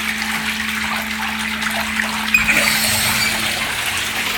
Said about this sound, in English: I'm gonna add a little more water.